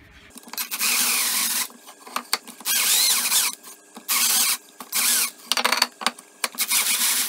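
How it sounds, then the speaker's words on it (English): A power drill drills out material on a pylon during an immersion cooling build, running in about six loud whirring bursts separated by short pauses, close up with no talking. "Now I'll just drill out the rest."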